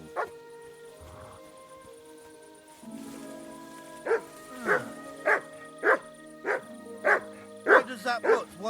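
A dog in the video game Kingdom Come: Deliverance II barks repeatedly, about nine evenly spaced close barks following a brief voice and some rustling.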